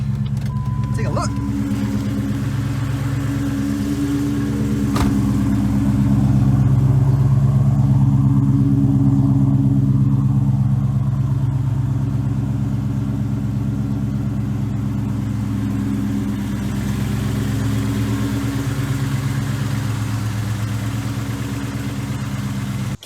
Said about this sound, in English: it's going to be impossible to hear me talking over the engine and noise